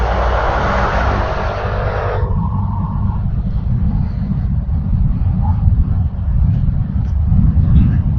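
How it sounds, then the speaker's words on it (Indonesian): A truck passes on the road, caught by a helmet-mounted action camera: a loud, steady low rumble with broadband noise that cuts off abruptly after about two seconds, leaving continuous low road and wind roar. "Ini truk apa ya?"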